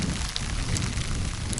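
Hail pours down outdoors in a dense, steady rattling patter, loud and close, with no voices over it.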